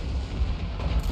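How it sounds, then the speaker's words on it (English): Cannons firing in the strategy video game Total War: Warhammer 3, a short burst of heavy low booms rolling into one another, fairly loud against a continuous rumble. "It is hard to dodge 3 cannons firing all at the same time"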